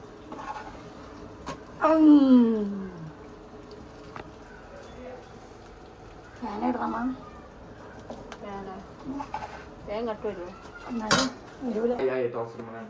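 Pathiri is stirred in a pan in a home kitchen, with intermittent metallic clinks and scrapes of utensil against pan, accompanied by people talking and pigeons cooing nearby.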